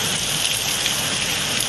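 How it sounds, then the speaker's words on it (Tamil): Heavy rain pours steadily in the Thirumangalam area near Kappalur, a dense, even roar of drops hitting surfaces with no pauses throughout. "கப்பலூரிலும் பரவலாக கனமழை கொட்டியது"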